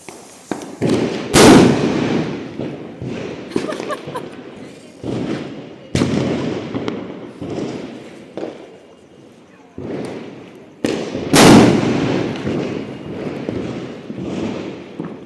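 Diwali firecrackers and bombs set off from a rooftop terrace burst in three loud, sharp blasts, each followed by rumbling, crackling bursts and echoing pops that fade between explosions.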